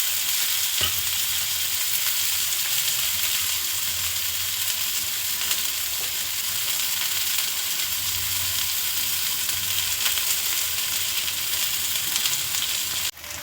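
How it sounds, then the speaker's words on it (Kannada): Onions frying in oil in a pan for an omelette give a steady, loud, broadband sizzle that holds evenly for the whole stretch, with no talk over it. "ಎಣ್ಣೆ ಮೇಲೇ ಈರುಳ್ಳಿ ಎಲ್ಲ ಸ್ಪ್ರೆಡ್ ಮಾಡ್ಕೊಳ್ಳೋಣ"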